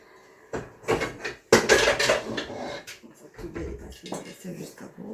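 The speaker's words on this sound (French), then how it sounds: "Donc je vais mettre mon couvercle que je n'ai pas préparé d'ailleurs." A lid is set onto a saucepan of milk being cultured for Munster cheese, with a couple of metallic clanks and scrapes of pot and cover amid kitchen handling, as someone talks throughout.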